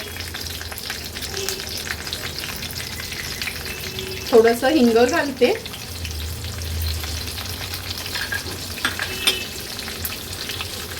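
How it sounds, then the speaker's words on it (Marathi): Mustard seeds, cumin and curry leaves crackle and spit in hot oil throughout, with someone briefly speaking over the sizzle midway. "राई जिरं आणि कढीपत्ता छान तडतडला"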